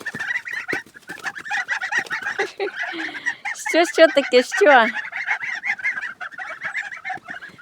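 Young geese on a Ukrainian farmstead call with repeated shrill peeping and honking cries, steady and close, while someone speaks over them.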